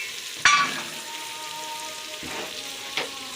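Ginger, garlic, tomatoes and green chilli frying in a pan, a steady close sizzle with a sharp burst as more goes in, then a few softer stirring scrapes.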